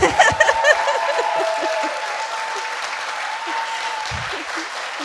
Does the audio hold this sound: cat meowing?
no